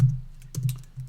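A single key press on a computer keyboard, a short sharp click near the mic against a low steady hum, with no talking.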